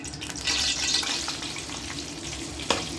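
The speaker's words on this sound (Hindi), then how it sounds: "उसके बाद अब हम इसको फ्राई करेंगे इसमें घी में।" Roasted flaxseed frying in desi ghee, giving a continuous close sizzle and crackle with a single sharp knock of a spoon near the end.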